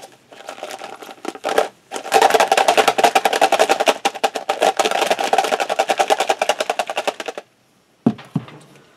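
Bicycle chain with master link shaken in a container with Simple Green degreaser, a fast loud rattling clatter of metal links going on for several seconds, then a pause and a brief final shake.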